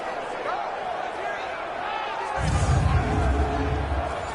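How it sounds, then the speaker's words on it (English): A large football stadium crowd roars steadily during a two-point conversion attempt, the noise swelling louder partway through, with a voice speaking over the din. "Listen to this crowd now."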